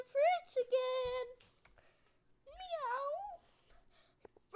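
A cat meows twice close by, drawn-out rising and falling calls separated by a short quiet gap, with light rustling in between.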